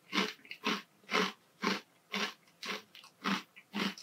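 Crunchy Snaffling Pig pork crackling snacks being chewed up close, eight loud, evenly spaced crunching bites in a steady rhythm with no talking.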